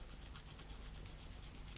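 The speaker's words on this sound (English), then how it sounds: "that does seem to be sanding rather nicely" Steady, faint rubbing of sandpaper on a 3D acrylic instrument panel, a continuous soft abrasive scrape with a quick back-and-forth rhythm and no voices.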